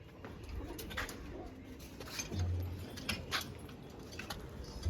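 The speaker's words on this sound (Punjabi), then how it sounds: "ਤੇ ਉਹ ਨਿਕਲੇ ਫਿਰਦੇ ਨੇ ਕਬੂਤਰ ਬਾਹਰ" Pigeons coo softly in low, repeated calls amid faint rustling and a few light taps near their loft, fairly quiet and close.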